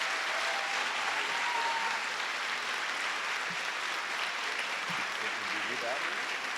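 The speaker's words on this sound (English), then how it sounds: "So please give yourselves a round of applause," Audience applause fills a school celebration of excellence hall, a steady broad wash of clapping that holds evenly from start to finish, with faint voices underneath.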